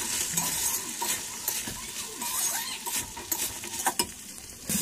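Spiced peas and fried potatoes for ghugni are stirred and sautéed in a pan, a close spoon scraping and clattering in irregular strokes over a soft continuous sizzle.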